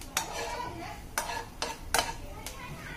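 Desiccated coconut being fried in hot desi ghee in a pan and stirred with a spoon, heard as five sharp scraping strokes at an irregular pace over a steady low sizzle, close and clear.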